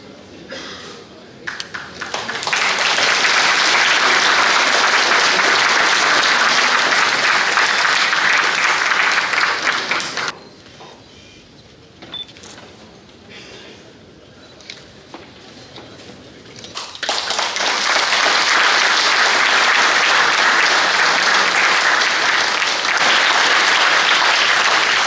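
At an award ceremony honouring recipients in Pyrgos, a large audience breaks into loud, sustained applause, dips into quieter murmuring for several seconds, then surges back into strong prolonged clapping.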